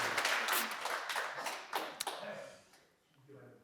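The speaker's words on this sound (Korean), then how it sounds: "예, 박수 치세요." An audience at a talk forum breaks into clapping, a loud burst that gradually thins and fades out after about two and a half seconds, leaving near quiet.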